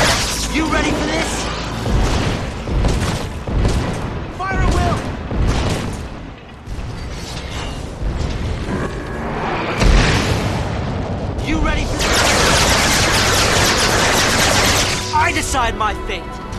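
Battle in Final Fantasy XIII erupts with loud, dense bursts of gunfire and booming explosions, rapid and overlapping, interleaved with in-game voices shouting and music.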